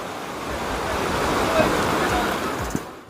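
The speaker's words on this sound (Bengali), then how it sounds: "কোলবা বিচের চারদিকটা আপনাদের আরো একবার দেখাচ্ছি" Ocean surf at Colva Beach in South Goa on a stormy day rolls in as a loud, continuous wash of breaking waves mixed with wind, rising slightly and then easing off.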